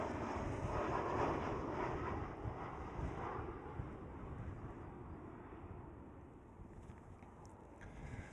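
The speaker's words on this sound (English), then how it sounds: "This is KLM City Hopper E190." A KLM Cityhopper Embraer E190 jet roars steadily at Amsterdam Schiphol airport, a broad, loud engine rumble close at first that gradually eases as the aircraft moves away, with some wind noise on the microphone.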